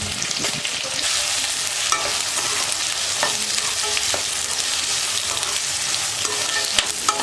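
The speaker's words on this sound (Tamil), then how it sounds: "இப்போ வெங்காயம் போட்டுக்கலாம்" Onions sautéing in a pan with fennel, cinnamon and cloves for vadacurry, a steady loud sizzle with crackling spatters and occasional scrapes of stirring, close up and without speech.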